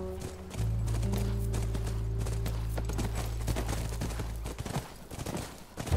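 Horse hooves clip-clop at a steady rhythm in the video game The Last of Us, close and clear over a low droning background.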